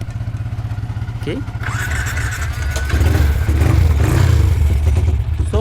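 A motorcycle converted to fuel injection is started by pulling the clutch, with a mid-pitched engine rumble rising and settling into a rough, uneven idle, close and loud under a man's brief speech.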